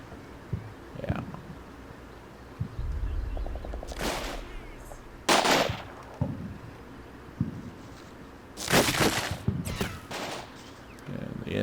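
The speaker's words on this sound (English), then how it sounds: "And the enemy is returning fire." Gunfire in the combat video game Combat Mission Black Sea, with several loud bursts of rattling shots separated by quieter background rumble and distant battle noise.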